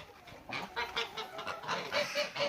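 Several geese honk in quick succession, loud and close, a cluster of harsh nasal calls overlapping with no talking.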